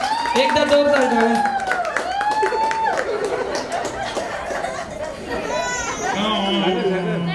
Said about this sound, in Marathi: देवीसाठी एकदा जोरदार टाळ्या.